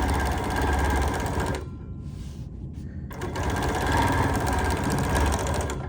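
A sewing machine runs steadily while stitching down a quilt piece, its fast mechanical whir pausing briefly for about a second and a half before resuming at full speed, close and clear.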